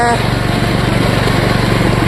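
A small garden tractor engine runs loudly and close, a steady buzzing drone with a rapid even pulse throughout.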